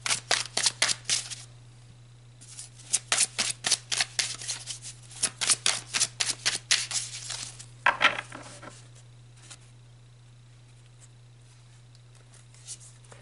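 Tarot cards being shuffled in several bursts of rapid riffling and flicking, close and clear over a steady low hum, with quieter gaps between bursts and a last soft riffle near the end.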